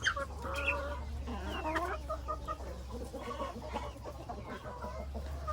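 Chickens cluck and murmur close by while eating purslane, a busy run of soft, overlapping calls and chirps from several birds over a low background rumble.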